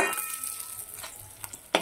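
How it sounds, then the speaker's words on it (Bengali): Katla fish pieces frying in hot oil for a Bengali fish curry, giving a steady, soft sizzle throughout with a sharp utensil clink near the end, close and moderately quiet. "মাছগুলো আমি ভালো করে ভেজে নেব।"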